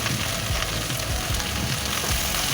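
Gourd leaves stirred in a hot pan with salt, turmeric and chilli powder, giving a continuous loud sizzle with soft scraping and shuffling strokes mixed in.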